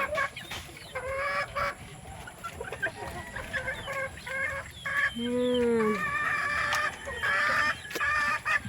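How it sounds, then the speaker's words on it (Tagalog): Chickens cluck and squawk repeatedly at close range, with one drawn-out crowing call partway through and faint background noise. "May mga kasama pa dito mga manok."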